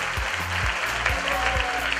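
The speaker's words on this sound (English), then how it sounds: "let's give them a real New Yorkers round of applause" Audience applause in a New York hall welcoming visitors from Korea and Israel, a dense steady clapping from a crowd heard close and fairly loud throughout.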